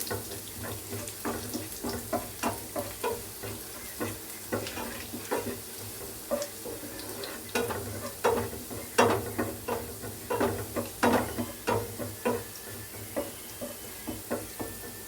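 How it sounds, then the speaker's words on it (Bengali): Garlic sizzles steadily in hot oil while a spatula scrapes and taps the pan in quick, regular strokes close by. "রসুনটা হালকা ভাজবো ভালো করে ব্রাউন করে"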